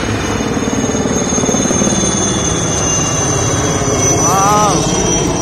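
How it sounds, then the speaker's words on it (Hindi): A loud Indian Air Force Cheetah helicopter drones with a steady chopping thrum and a high whine, while people talk and shout over the noise. "देखो देखो देखो ये हेलीकॉप्टर कहाँ से आ रहा है?"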